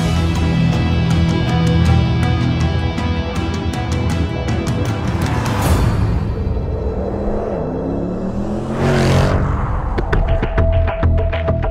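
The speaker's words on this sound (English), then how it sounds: "Here too, engines already in production are tested." A Mercedes-AMG production engine runs on a test bench in the factory, droning loudly with steady harmonic tones and two sharp rev sweeps up and back down partway through.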